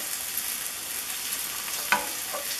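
Minced garlic frying in a pan for lo mein, a steady soft sizzle and crackle with one brief louder pop near the end, close and continuous with no talking.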